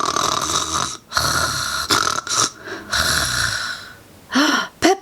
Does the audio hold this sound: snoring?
yes